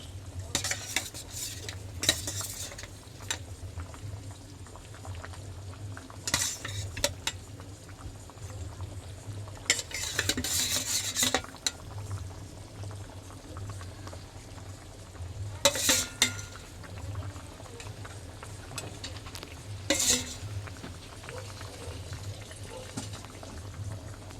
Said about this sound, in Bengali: ঝোল ফুটে গেছে এবারে ভেজে রাখা মাছগুলো দিয়ে দেবো